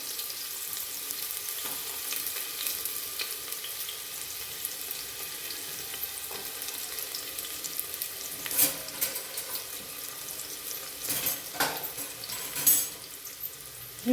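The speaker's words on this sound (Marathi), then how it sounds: "साधारण एक पळी मी तेल टाकलेलं आहे तर आपल्याला त्याच्यात बारीक कट केलेला कांदा टाकून द्यायचा आहे" Finely chopped onion frying in a ladleful of oil makes a steady broadband sizzle throughout, broken by a few sharper clatters of stirring near the end, with no voices.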